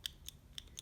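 Sanwa arcade joystick buttons pressed on a plate, four crisp, light clicks spaced unevenly over a short span, close and quiet with nothing else audible.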